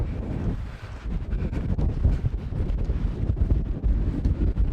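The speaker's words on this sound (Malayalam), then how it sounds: "ഈ തിരമാലയുടെ ഒച്ച ഭയങ്കര രസമാണ് കേട്ടോ. ഒരു നല്ല കാറ്റുമുണ്ട്." Strong wind buffets the microphone on a Newfoundland sea cliff, with the low, steady roar of waves breaking below. The noise is continuous and fairly close.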